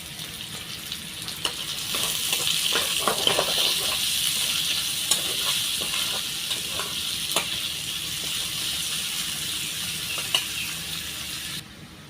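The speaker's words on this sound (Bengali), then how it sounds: "শুটকি ভুনা করার জন্য তেল দিয়ে দিতেছি তেল বেশি দিলাম না হালকা করে দিছি" Dried fish sizzles in a light amount of oil in a pan, a steady close frying hiss with occasional clicks and scrapes of stirring, in a village kitchen.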